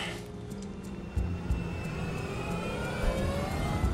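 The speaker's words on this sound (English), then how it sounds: "At 2:23, the MD-82 aircraft starts speeding down the runway." A Spanair MD-82 airliner accelerates down runway 36 left for takeoff, its engines building to a loud, rising roar with whining tones over a constant rumble.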